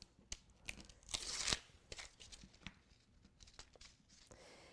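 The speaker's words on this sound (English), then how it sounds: "We're just going to peel that off." Embroidery stabilizer material being peeled off a finished Kimberbell pennant banner design, giving a series of soft, close tearing and crinkling sounds with a few sharp rips in the middle.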